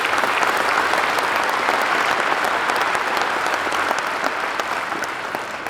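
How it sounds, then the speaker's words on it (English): Sustained audience applause at a summit gathering, a thick, continuous roar of clapping hands at steady loudness that eases slightly toward the end. "Please give them a big round of applause."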